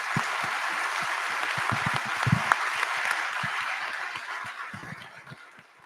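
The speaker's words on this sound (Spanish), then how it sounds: "un gran aplauso a nuestros panelistas" Audience applause at a panel on AI and talent development, a dense, sustained wash of many hands clapping across the room that gradually tapers off, with scattered louder claps standing out.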